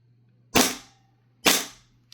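Two sharp, close pops spaced about a second apart from an Arcturus Tempest airsoft pistol, each a crisp crack with a short decaying tail over a low steady hum.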